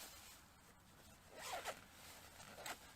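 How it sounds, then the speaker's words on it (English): A zipper on a sleeping bag hood is pulled in two quick, soft rasping strokes, close but quiet against a low background hiss. "with a simple pull of a zipper"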